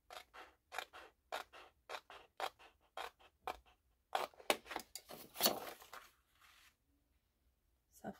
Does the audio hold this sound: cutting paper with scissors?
yes